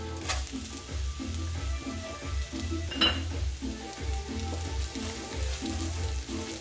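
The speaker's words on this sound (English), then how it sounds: "Throw the onions and the garlic and the rice." Onions, garlic and rice sizzle steadily in a tablespoon of hot oil in a pan, with rhythmic scraping stirs and an occasional metallic clink of the utensil against the pan, close and moderately loud.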